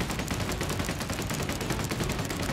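Sustained rapid gunfire from a light machine gun in the top-down shooter Solstice Chronicles, a dense, continuous burst of loud shots with no pauses and no talk.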